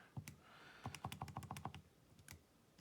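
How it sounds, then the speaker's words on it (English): Keys clatter on a computer keyboard as a math equation is entered into graphing software, a quick run of a dozen or so crisp clicks after a couple of isolated taps, close and fairly quiet with no talk. "if I would type it in correctly"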